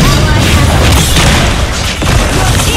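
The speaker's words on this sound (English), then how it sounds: "Your team destroyed a turret!" A turret is destroyed in the Mobile Legends game with a loud, dense booming blast that fills the short moment, and crashing game effects are layered over it.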